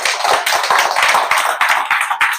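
An audience claps together at a seminar, a loud, close burst of dense hand claps with a rapid, slightly uneven rhythm and no talking.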